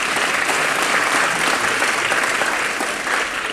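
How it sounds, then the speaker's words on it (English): A high school audience applauds at a top-20 student recognition evening, loud continuous clapping that fills the room from start to finish with no talk over it. "we should get another round of applause to the East Harbor High School staff"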